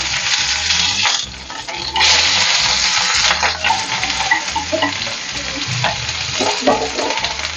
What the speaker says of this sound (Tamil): எண்ணெய் காஞ்சிடுச்சு. இப்போ வந்து 4 சீரகம் போட்டுக்கலாம். வெங்காயம்,